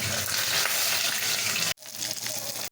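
Fish browning in hot oil in a pot for a Jamaican brown stew fish, a steady loud crackling sizzle that cuts off abruptly partway, then resumes a moment later as the pieces are turned.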